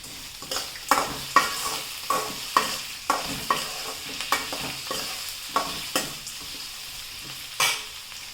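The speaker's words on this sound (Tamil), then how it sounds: "கருவேப்பிலை, பச்சை மிளகா, வெங்காயம் போட்டு கொஞ்சம் நேரம் வதக்கியாச்சு" Curry leaves, green chilies and onion sauté in a pan for semiya upma, a steady sizzle broken by regular spoon scrapes and taps against the pan, close and clear with no talking.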